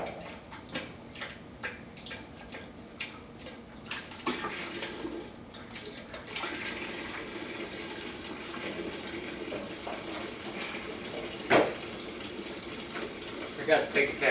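Fluid drains steadily from a 2008 Nissan 350Z drift build during maintenance, a continuous trickling, splashing stream that begins faint and grows fuller, with occasional clicks and clanks nearby.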